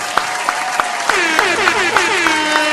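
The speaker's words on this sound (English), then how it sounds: "Y'all clap it up for that" Show audience applause at the Black Ink Radio event, loud and close, with regular sharp claps or beats and a tonal, warbling sound running through it.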